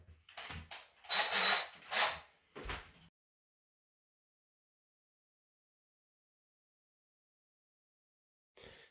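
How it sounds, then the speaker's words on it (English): Several short, harsh bursts of a drill biting into shower wall tile come in quick succession, then give way to a long silence broken by one brief final burst. "let me go ahead and drill these holes"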